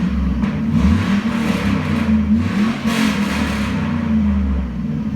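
A Chevy Silverado LM7 5.3-liter LS V8 on an engine stand is revved several times, its loud, close roar swelling and falling between blips with no talking.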